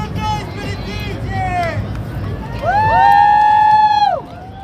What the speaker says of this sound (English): Make some noise for the DJ!